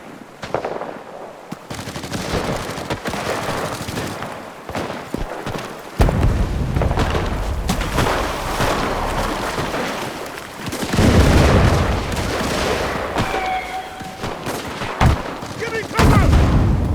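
Artillery and gunfire rage in Enlisted, a Pacific War battle for Guadalcanal's coast: loud booming blasts and rattling machine-gun bursts pile up in dense, chaotic waves, with shouted game voices mixed in.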